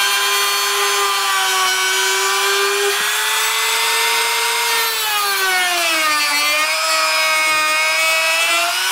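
A power tool cuts through a plastic PSU shroud with a steady, loud, close whine that holds for the whole stretch, its pitch sagging and rising slightly as the load changes.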